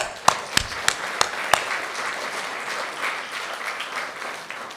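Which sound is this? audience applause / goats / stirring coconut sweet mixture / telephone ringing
audience applause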